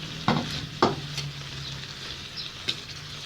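Chicken giblets stir-fried with pea eggplants in a hot pan, loud sizzling with two sharp tossing scrapes near the start and another later, close up and without voices.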